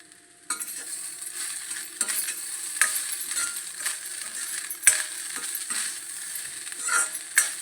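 Cooked rice stirred into fried grated coconut in a pan, a soft continuous scraping and light sizzle with occasional clinks of the spoon against the metal, close and steady with no voices.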